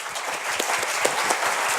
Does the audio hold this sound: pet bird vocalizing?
no